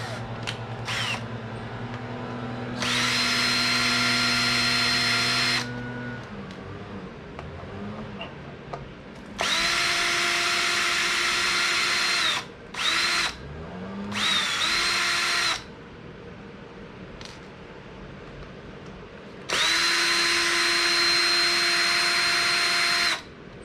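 A power drill loosens screws on an Arrma Infraction RC car, firing in several loud whirring bursts of a few seconds each. Quieter gaps of handling noise and small clicks fall between the bursts.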